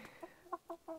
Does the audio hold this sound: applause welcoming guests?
no